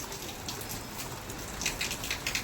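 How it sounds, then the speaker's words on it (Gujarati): Rain falls in a soft, continuous patter with scattered distinct drops landing close by, fairly quiet and free of talk. "વરસાદ શરૂ થઈ ગયો"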